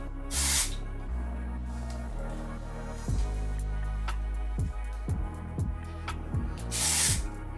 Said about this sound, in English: Put some dry shampoo and see if it flows better.